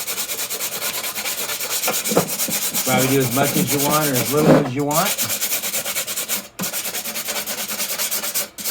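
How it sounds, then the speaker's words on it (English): Steady scratchy rubbing of sandpaper on a metal landscape lighting shroud, continuous and close, with someone talking over it for a few seconds. "And then you just start sanding,"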